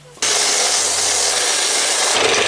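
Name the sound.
belt sander sanding glued wood bowl segments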